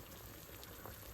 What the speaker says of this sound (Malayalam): മുട്ട തിളച്ചുകൊണ്ടിരിക്കുകയാണ് ഗൈസ്.